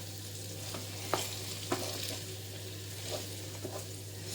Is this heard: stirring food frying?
yes